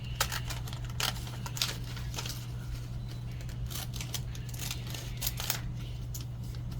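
Scissors snip close by in a quiet room, giving soft, irregular clicks and short cutting bursts over a steady low hum.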